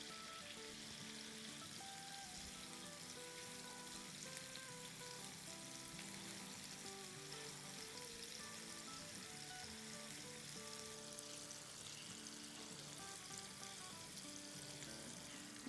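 Minced chicken koftay fry in a pan on a stovetop turned up to medium-high, giving a steady, dense sizzle that holds evenly throughout at a moderate level with no talking.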